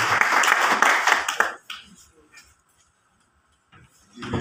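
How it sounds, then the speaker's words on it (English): A crowd claps in a round of applause for the governor at a WaterAid water and sanitation event in Lagos, loud and dense for about a second and a half, then fading to scattered claps and quiet before a voice returns. "Please a round of applause for him"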